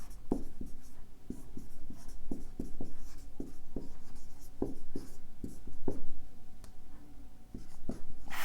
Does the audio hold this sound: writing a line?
yes